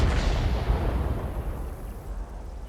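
A heavy, booming SU-100 tank cannon blast in a video game, with a long rumbling decay, loud and close, with no voices.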